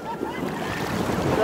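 Ocean surf washes in steadily on a beach, a continuous broadband rush with wind buffeting the microphone and rising slightly toward the end.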